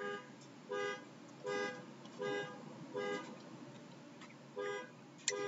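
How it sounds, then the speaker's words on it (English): A car alarm outside sounds a repeating blaring tone in evenly spaced bursts, about twice per second in pulses with short gaps, heard from indoors at moderate distance over a steady background hum. "Can you guys hear that alarm going on outside?"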